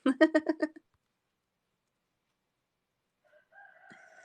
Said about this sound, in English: the rooster crowed again